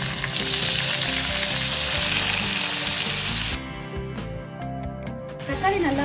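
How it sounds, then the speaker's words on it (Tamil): Tomatoes and onions sizzle steadily in a pan while a pepper chicken fry is cooked, a continuous loud frying hiss with stirring scrapes partway through. "தக்காளி நல்லா வதங்கிடுச்சு."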